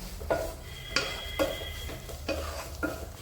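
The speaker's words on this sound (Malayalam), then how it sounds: "ആ മുട്ടയും ചിക്കനും നന്നായിട്ടൊന്ന് മിക്സ് ആവട്ടെ" Egg and chicken being stirred in a pan for kothu parotta, with five distinct scraping strokes of a utensil against the pan over a low, steady background hiss.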